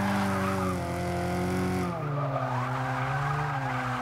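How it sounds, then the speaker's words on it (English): Alfa Romeo Stradale GTA in Forza 6, its engine revving high as slick tires spin and squeal continuously, with a gear change midway and no talking. "I guess we're just going to spin the tires now that they're high"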